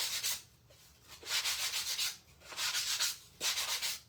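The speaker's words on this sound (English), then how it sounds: "Gonna sand this real quick." Sandpaper rubbing back and forth over a painted stencil decor piece, in several bursts of brisk scratchy strokes with short pauses between, close and steady with no talking.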